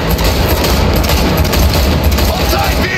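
Automatic gunfire erupts during a vehicle chase in the video game Cyberpunk 2077. Dense, continuous bursts play loud and close, layered with engine roar and game sound with no clear gaps.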